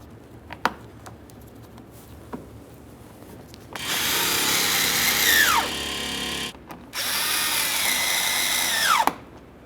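A power tool drives the lower control arm bolts on a 2013-2020 Ford Fusion 2.0L I4 in two close, loud whirring bursts of about two seconds each. Each burst winds down as the bolt seats, with faint clicks before them.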